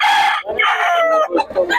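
A rooster crows loudly and close by in a short, ragged cock-a-doodle-doo, with farm fowl clucking around it.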